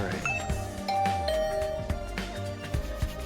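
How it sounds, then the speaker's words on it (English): Inside The Hundred Line video game, a doorbell gives a bright chime over the game's layered background music, its ringing tones sustained against the busy score. "I rang the doorbell to Tsubasa's room"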